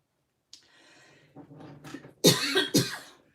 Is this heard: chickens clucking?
no